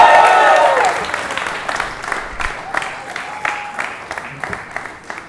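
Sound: audience applauding comedian's entrance

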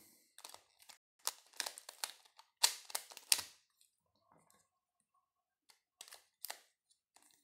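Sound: twisting a pyramid puzzle cube

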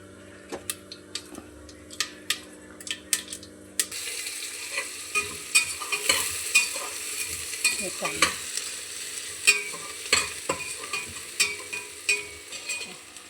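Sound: mustard seeds sizzling in hot oil

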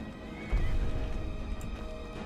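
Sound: horses neighing in a video game

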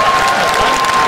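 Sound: crowd applauding at MMA fight in St. Petersburg

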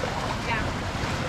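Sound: ocean waves hitting a boat

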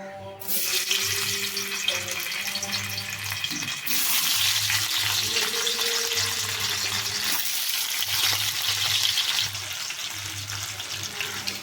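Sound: paneer frying in hot wok

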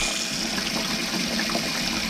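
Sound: leather being dunked in water in a sink

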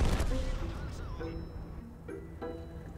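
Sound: tank gunfire in the video game World of Tanks

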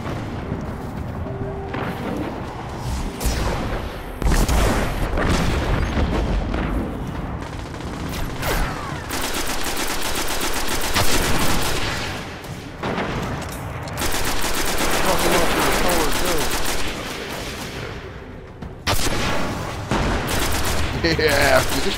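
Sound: rocket launcher and gunfire in video game Destiny

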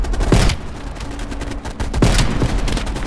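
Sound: sniper rifle gunfire in the video game Call of Duty: Black Ops Cold War

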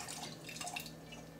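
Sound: pouring hot water out of a container

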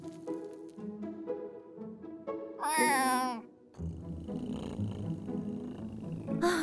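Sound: cat meowing

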